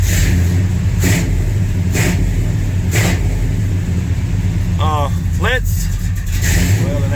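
A hoopty hot rod 4x4 engine runs loud and close with a hanging throttle, holding a steady raised idle with rhythmic pulses, while someone talks briefly over it.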